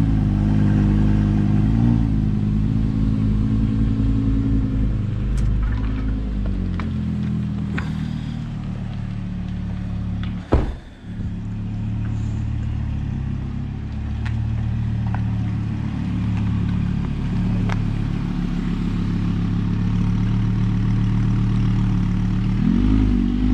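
A car engine hums at a steady low drone with a gentle rise in revs and a clunk halfway through, heard close and loud with no talking.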